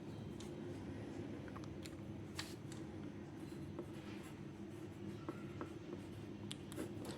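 A pen writes the word Gujarat on a map, faint scratchy strokes and light taps over a steady low hum.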